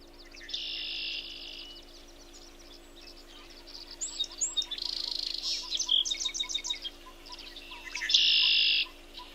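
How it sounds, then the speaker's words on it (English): A red-winged blackbird calls repeatedly, with buzzy trills and sharp chirps, the loudest call near the end, over a faint steady hum. "Let's see if I can find a call of the red-winged blackbird"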